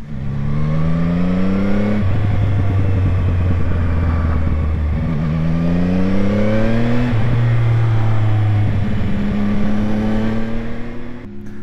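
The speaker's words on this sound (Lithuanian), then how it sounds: "Jūs tik paklausykite, kaip maloniai jisai burbuliuoja atleidus akceleratorių." A CFMOTO 675NK three-cylinder motorcycle engine burbles and rumbles steadily off throttle, with rising and falling rev tones as it shifts between gears, loud and close for the whole stretch.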